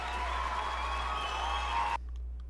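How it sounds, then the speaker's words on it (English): Recorded applause at the end of a played song, a steady wash of crowd clapping over a constant low hum that cuts off abruptly partway through, leaving near silence. "the rest is just clapping"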